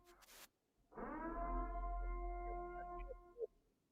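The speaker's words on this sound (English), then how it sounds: "I think the siren drowns you out, at least on mine." A siren sound effect wails in a single steady tone that holds for a few seconds and then cuts off, heard faintly after a short noise burst.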